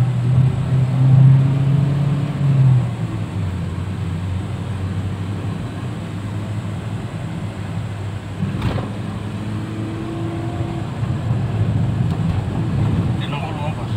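A 2012 Nissan Livina engine pulls steadily under acceleration in gear, a continuous low drone that holds through the whole stretch while people talk inside the car.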